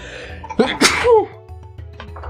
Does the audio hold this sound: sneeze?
yes